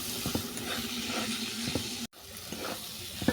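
Masala with cooked banana peel, sugar and garam masala sizzling as it is stir-fried in a pan; a soft, close crackle and hiss broken by scraping stirs, with a brief dropout midway.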